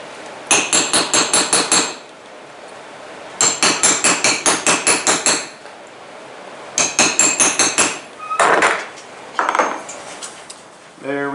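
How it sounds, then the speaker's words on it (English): Rapid metal hammer taps smooth a rivet head on handmade snowshoe bindings, ringing close and loud in three bursts of about seven quick strikes each, followed by a few scraping sounds. "we'll just tidy up the rivet head."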